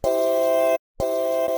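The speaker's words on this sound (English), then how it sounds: "We got this voice stutter pad." Two short sustained vocal stutter pad tones without effects, cut by a brief silence, dry and steady, with no talking.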